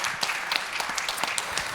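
An audience at a game conference applauding after a contestant's game pitch: a dense, steady wash of many hands clapping, loud and sustained through the whole moment.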